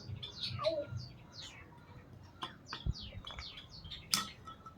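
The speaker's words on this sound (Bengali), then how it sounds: "এই দেখো পাখিগুলো সব ভয়ে উড়ে চলে গেল" Several short bird chirps and tweets scatter across a few seconds as startled birds fly away, fairly faint, with soft rustling and low background murmur.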